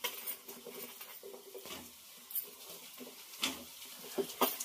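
Onions and bitter gourd sizzle and pop in hot oil with a soft, steady patter, broken by occasional clinks of a utensil against the pan, fairly quiet and with no one talking.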